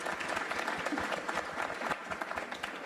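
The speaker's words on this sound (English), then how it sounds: "Please give them a round of applause for their thoughts." Applause from an audience at a museum panel discussion, a steady crowd of hands clapping at moderate volume for the whole stretch with no talk over it.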